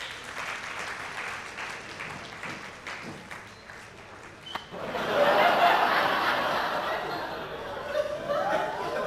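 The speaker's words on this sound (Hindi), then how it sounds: "जोरदार तालियां ऑडियंस।" A live audience at a stage event breaks into applause, a thinner patter with light laughter at first, then swelling into a dense, loud, sustained clapping that fills the second half.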